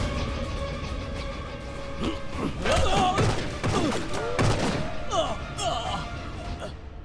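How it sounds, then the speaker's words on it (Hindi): Several loud gunshots crack out amid busy, noisy surroundings, with bursts and echoing thuds spread over a few seconds. "गोली चलने की आवाज थी।"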